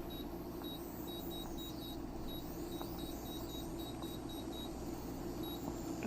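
A kitchen timer beeps while being set as bucatini pasta cooks. Short, faint, evenly spaced high beeps repeat over a steady background hiss.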